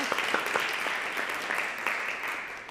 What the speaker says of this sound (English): I'd like to give a nice round of applause,